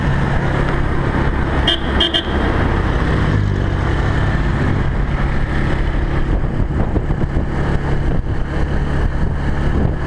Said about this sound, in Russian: Едем на трайцикле.